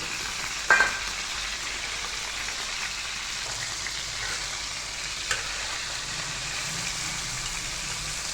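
Half a kilo of chicken sizzles steadily in a pan, with a soft, constant crackle of frying. It is moderately quiet, with a couple of faint clinks from stirring.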